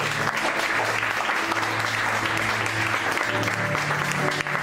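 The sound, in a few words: congregation applause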